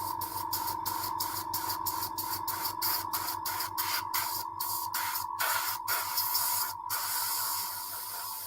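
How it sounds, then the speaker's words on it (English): An airbrush sprays to dry paint, a close steady hiss broken by short rhythmic pulses from the trigger being worked on and off. "let's give this a little bit of airbrushing to dry off our paint"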